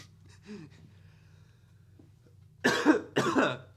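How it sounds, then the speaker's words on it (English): After a quiet stretch with faint murmuring, someone coughs twice, loud and close, two sharp harsh bursts in quick succession. "Sorry about the cough there."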